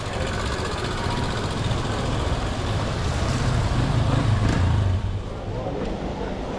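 Street traffic in Nepal with Royal Enfield and Pulsar motorcycles and scooters, a dense continuous engine rumble swelling as a vehicle passes close, with people talking nearby.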